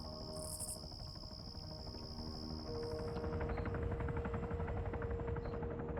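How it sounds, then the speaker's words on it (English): A helicopter flies overhead in a multiplayer military video game, a rhythmic rotor thumping that grows louder and steadier over several seconds, mixed with a high insect-like whine. "what's that helicopter noise?"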